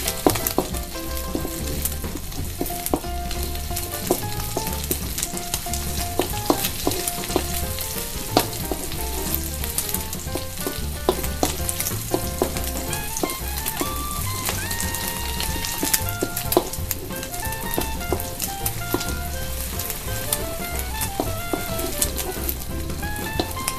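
Chopped chili and garlic fry in a pan with a steady, dense sizzle that runs throughout, broken by occasional stirring clatter at close range and no voices.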